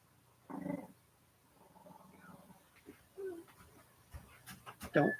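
An indoor dog pants and whimpers in faint, scattered bursts, with a sharper whine near the end and soft household sounds around it.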